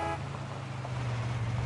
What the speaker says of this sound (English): I've never honked the horn on this truck before